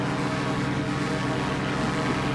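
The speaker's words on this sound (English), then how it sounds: "Oh, there's another plane." Airplane flying over Wellington city centre in New Zealand, a steady, loud droning engine rumble holding constant throughout without any talking.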